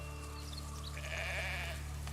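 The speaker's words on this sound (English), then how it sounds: "Yes, my little sheep." A sheep in the indie video game Village of Picin gives a short, faint bleat partway through, set against a steady low hum and soft game music.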